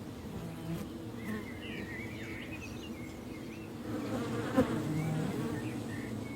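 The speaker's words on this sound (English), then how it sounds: "This apiary at the edge of the forest has 24 colonies, 1 million bees visiting 1 billion blossoms every day." A steady, dense hum of many honey bees buzzing around hives at a forest-edge apiary, soft and continuous, with individual insects droning past now and then.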